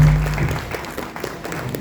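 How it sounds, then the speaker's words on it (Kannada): Audience clapping at a cooperative society function in Dharwad, a steady patter of applause from a seated crowd, loudest at the start and tapering to lighter scattered claps. "ಬರ್ಲಿ ಜೋರಾದ ಚಪ್ಪಾಳೆ ಬರಬೇಕು"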